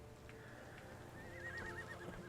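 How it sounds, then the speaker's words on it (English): A horse in the Sherlock Holmes The Awakened video game lets out a single quavering whinny that rises and warbles in the second half, with faint hoof clops underneath. "Oh, the horse is standing now."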